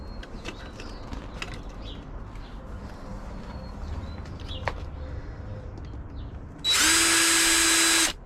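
A cordless power drill whirs steadily for about a second and a half at the end while drilling drainage holes in a plastic planter, following quieter handling clatter and faint birdsong outdoors.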